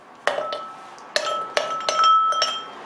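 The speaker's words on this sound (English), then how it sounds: "this time I'm going to use only 6 ice cubes" Ice cubes clink into a glass while making caramel iced coffee, with about six sharp, bright clinks in uneven succession, close and loud with no talking.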